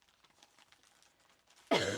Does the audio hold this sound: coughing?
yes